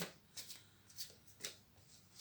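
Playing cards are shuffled for a card draw, a quiet, close series of crisp riffling bursts repeating in a loose rhythm.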